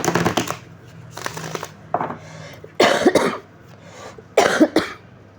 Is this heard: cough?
yes